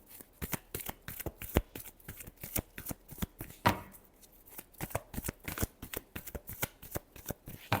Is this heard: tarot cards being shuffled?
yes